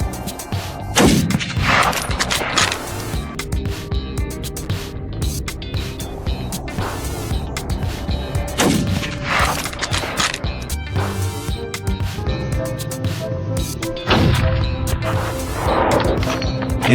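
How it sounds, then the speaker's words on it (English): Several sharp, loud rifle shots crack out during a wild hog hunt in a Florida swamp, irregularly spaced over a continuous busy rumble of background noise. "the gunshot thundered through the stillness"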